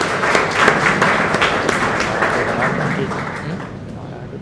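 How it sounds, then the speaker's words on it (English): A meetup audience applauds at an event, with dense clapping filling the room steadily for several seconds before it starts to thin out toward the end. "Can we have a huge round of applause for them?"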